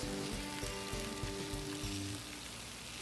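Veggie burger patties sizzle loudly on a grill at a camp house, a dense, close crackling hiss with a low steady hum underneath that eases slightly toward the end.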